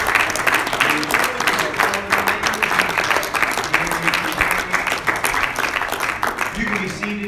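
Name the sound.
congregation clapping hands in church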